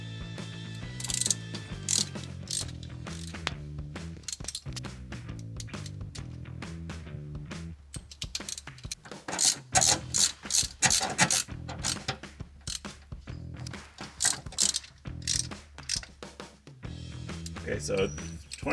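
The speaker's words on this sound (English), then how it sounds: "Just tightening the bolts up till snug" A ratchet tightening differential cover bolts on a 2011-2014 Ford Mustang V6, with quick repeated clicking in bursts, close and clear, while a voice talks over part of the work.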